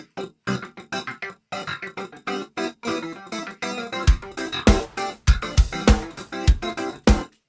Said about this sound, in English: there's a lot of clav action going on